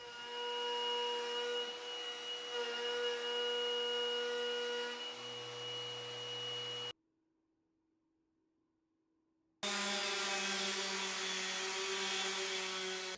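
A wood router fitted with a small coving bit cuts a cove along a piece of wood against a temporary fence, giving a loud steady high-pitched whine that stops for a few seconds of silence before starting up again.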